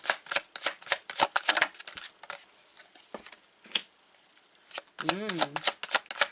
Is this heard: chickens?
no